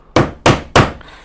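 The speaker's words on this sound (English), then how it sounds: "you get your hole punch and you hammer it a few times" A hole punch is struck three times with a weighted jeweler's planishing hammer, each blow a sharp, evenly spaced metallic thwack that rings briefly before the next.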